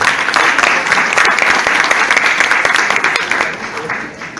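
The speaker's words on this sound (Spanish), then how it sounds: "Un fuerte aplauso para él." Audience applause for a featured speaker, a certified public accountant, at a tax seminar on deductible and non-deductible expenses; dense, steady clapping from a crowd that holds loud throughout and tapers slightly at the end.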